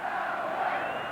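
Brief burst of a packed NFL stadium crowd in Denver during a 1997 wild card playoff game against Jacksonville, a sustained loud chant rolling through the stands in a dense wall of voices.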